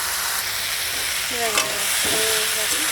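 Water lily stems with green chilies sizzle steadily in a hot pan while a utensil stirs and scrapes a few times, with a faint tonal squeak midway.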